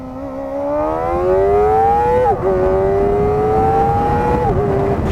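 A Kawasaki Ninja ZX-4RR revs hard to high RPM, its engine note wailing loud and shrill as it climbs. It shifts twice with short dips between sustained screaming pulls.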